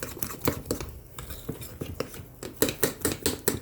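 A spoon stirs sweet cornbread batter made with sugar and eggs in a bowl, giving a run of soft scraping clinks that quicken into a steady rhythm toward the end, close and fairly quiet.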